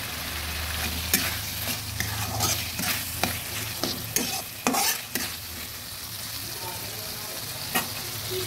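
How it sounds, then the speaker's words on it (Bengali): Salted tomatoes cooking in a pan over a steady sizzle, with repeated scraping strokes of a spatula as they are stirred and a few sharp knocks against the pan. "নুনটা দিলে টমেটোটা একটু তাড়াতাড়ি হয়ে যাবে সিদ্ধ।"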